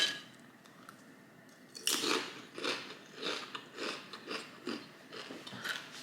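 Crunchy bites into a century-egg flavoured Doritos tortilla chip, followed by a run of close, rhythmic crackling chews, loud and alone with no talk.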